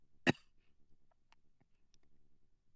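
A single sharp cough in audiobook narration, close and loud, followed by quiet room tone with faint small noises.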